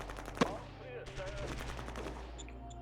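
Gunfire in the strategy war game Shadow Empire, a sharp shot standing out near the start, then a steady dense rattle of battle noise and distant bursts continuing underneath.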